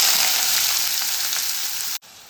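Sliced onions fry in hot oil in a kadhai, giving a steady, loud, close sizzle that cuts off abruptly near the end.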